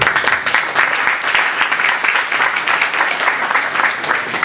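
Audience applause at a music networking event, a steady round of clapping from a small crowd lasting a few seconds, fairly close and even.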